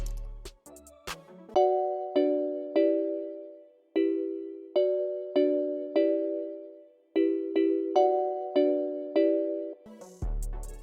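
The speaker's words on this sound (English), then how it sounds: "I went to Purity and got this bell. And then I just made chords like this." A bell patch from the Purity synth plugin plays a sequence of sustained chords, each ringing bright and decaying before the next strike, in a steady, unhurried rhythm.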